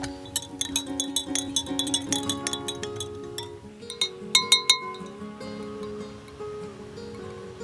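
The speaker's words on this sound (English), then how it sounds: "So I'm serving this on ice." Ice cubes clink and tinkle against a glass as a tangy sumac drink with lemon juice is served over ice, a run of bright, close taps that cluster near the end and then fade out.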